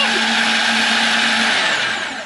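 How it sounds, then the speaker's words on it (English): A countertop blender whirs steadily as it purees banana, oats and eggs into pancake batter, a loud continuous motor drone that holds for about two seconds and then starts to ease off. "And you put it all in a blender."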